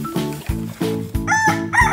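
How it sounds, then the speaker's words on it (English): A rooster crows loudly and close, several short strident cock-a-doodle calls in quick succession with a clucking edge. "Roosters."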